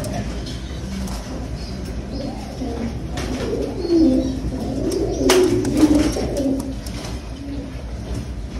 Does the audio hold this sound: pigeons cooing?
yes